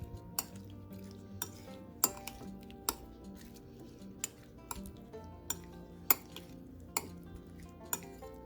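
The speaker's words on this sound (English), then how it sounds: "Now whisk them together." Lemon juice being whisked into peach salsa in a bowl, a soft continuous stirring swish with sharp utensil clinks against the bowl roughly every second, fairly quiet and close, with no talking.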